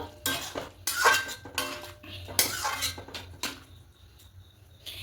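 Paneer chana masala with ghee is stirred in a pan with a metal spoon, giving a run of clanks and scrapes against the pan in uneven bursts, loud and close, with no talking.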